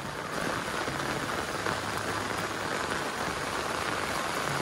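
Rain falling outdoors in a village setting, a steady even patter on surfaces, soft and continuous with no voices, a uniform wash of droplets throughout.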